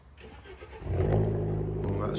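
A sports car with a hole in its exhaust starts up and revs with a loud, rough, steady roar that settles into a sustained drone, while people talk over it.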